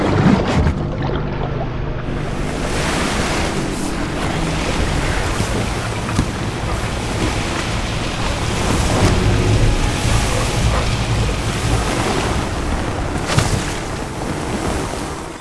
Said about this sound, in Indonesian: badai itu membalikkan perahu karetnya